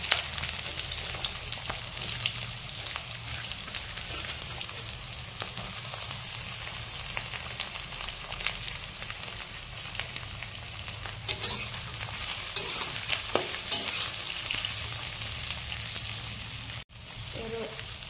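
Onions frying in hot oil in a home kitchen while noodles are made, a steady close sizzle running throughout with a few stirring clatters, and no talk over it.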